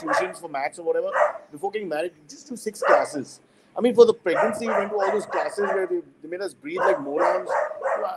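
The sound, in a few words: dog barking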